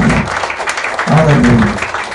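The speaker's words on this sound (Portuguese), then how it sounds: "Bate palmas para Jesus." A church congregation applauds during a children's celebration service, with a dense, steady patter of clapping that carries through brief, mixed-in voices.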